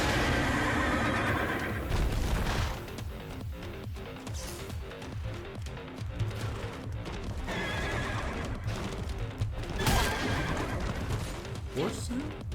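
A horse in a video game whinnies loudly several times over steady clip-clopping hooves, with game sounds and a voice talking throughout.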